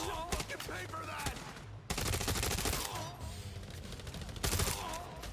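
Dense automatic gunfire rattles in rapid overlapping bursts during a firefight in the mobile shooter The Division Resurgence, loud and nearly continuous with a brief gap near the two-second mark.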